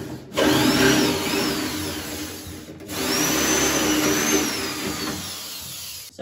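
A power drill bores holes during cabinet installation, whining loudly and steadily in two long bursts separated by a short pause, close by with no voices.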